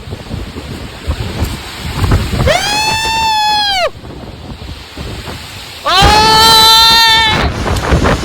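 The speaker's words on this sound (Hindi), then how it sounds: "देख सकते हो कितना तूफान आ रहा है" Windstorm gusting through a mango orchard in Chhattisgarh: rough, blustery wind buffeting the microphone throughout, with two loud tonal wailing bursts rising over the roar partway through.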